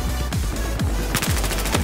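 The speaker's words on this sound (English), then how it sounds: "Shooting from about on a beach at our own team." Rapid game gunfire from Battlefield 4 on a beach, a dense loud burst of repeated shots layered over continuous battle noise.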